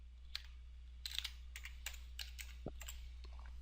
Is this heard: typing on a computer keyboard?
yes